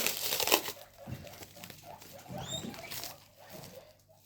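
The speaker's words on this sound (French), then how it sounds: "Très bien emballé, en tout cas. Je vais le déballer." A packaged Temu haul item is unwrapped by hand, giving soft intermittent crinkles, rustles and small tearing scrapes in irregular bursts, close and fairly quiet with no speech.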